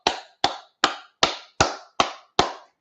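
Seven sharp, evenly spaced hand claps, close and dry, each a crisp snap with a quick decay and silence between, keeping a steady beat.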